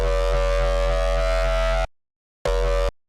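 Wavetable sample recorded for sound design in the Serum 2 synth: a loud, dense, buzzing sustained drone with a low pulsing throb, cutting off abruptly, then a short second burst after a pause, no voices.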